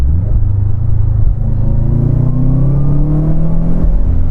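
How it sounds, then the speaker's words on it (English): A 2005 Subaru Legacy GT turbo with manual transmission drones loudly from inside the car, its engine note rising steadily in pitch as it pulls. "I can hear a little bit of like turbo noise when you let off."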